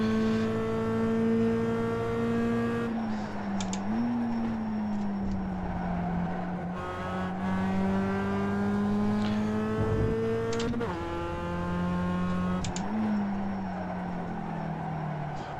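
Race car engine in a racing video game at the Okayama circuit, revving hard and steadily with rising pitch under full throttle, dropping briefly at gear shifts or lifts around three and eleven seconds before climbing again.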